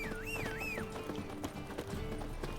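Horse hooves clip-clop at a gallop in The Witcher 3, a steady quick rhythm of soft thuds close by, with a brief whinny-like sweep near the start and game music underneath.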